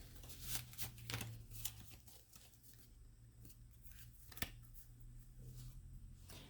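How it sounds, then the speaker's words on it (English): Tarot cards being shuffled by hand, a faint run of soft riffling flicks and taps that come and go irregularly over a low background hum. "Actually, let me shuffle these a little bit."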